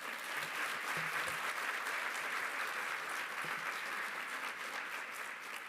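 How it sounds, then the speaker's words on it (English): Sustained audience applause at a community college commencement ceremony, an even, continuous roar of many hands clapping at a distance, heard on its own. "You may now applaud."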